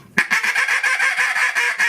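An R&T Daisy Slayer duck call is blown fast, producing a rapid string of short, bright, evenly spaced quacking notes that run continuously, loud and close, with no voices.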